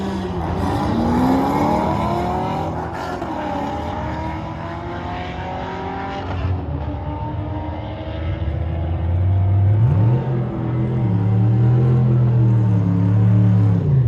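Modified C6 Corvette V8 with upgraded cam, headers and intake roaring through a quarter-mile drag strip run at about 118 mph, loud and continuous, pitch rising through each gear then dropping briefly at a shift before climbing again.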